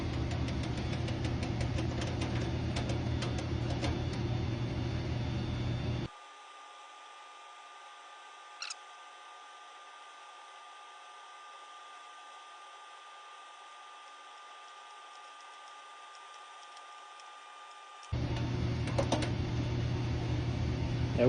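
A brand-new enthalpy wheel bypass actuator strokes closed, giving a steady, faint electric motor hum that runs for about twelve seconds. Louder broadband air-handler noise comes before and after it.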